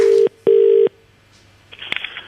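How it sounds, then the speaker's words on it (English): A mobile phone number is dialed: two long, loud keypad tones sound in succession, followed by a pause and then faint ringing or line noise, with no talking. "We're going to make a quick phone call."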